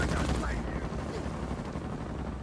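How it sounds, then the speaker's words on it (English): Blind firing in an online shooter video game: rapid bursts of gunfire crackle near and loud at the start, then thin into a scattered, quieter rattle of shots underneath faint talk. "I know I have the perfect place to start blind firing"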